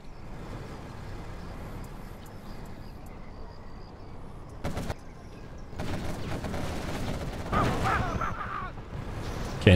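Gunfire bringing down a Chinook helicopter in a competitive video game match: a rumbling mix of engine drone and crackling shots that grows busier and louder toward the end, with no talk.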